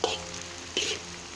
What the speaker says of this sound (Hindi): ये हम फिर से इसमें चम्मच हिलाएंगे और देखेंगे ये हमारी अरबी अच्छी तरह से फ्राई हो गई है।